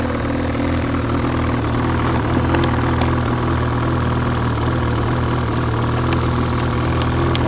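A 2012 Ski-Doo MKZ 800R snowmobile engine idles steadily up close, a continuous, even mid-to-low drone with no talking.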